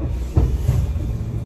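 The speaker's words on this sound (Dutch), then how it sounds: "Dus ik wacht nu op die tram." A tram rolls past at a stop, a steady close rumble with a rattling wheel clatter and a thin high hiss throughout.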